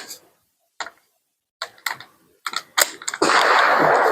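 Straight-pull bolt of a World War I Ross Rifle worked open, giving a run of sharp metallic clicks and clacks that quicken toward the end before a burst of broadband noise, close and loud.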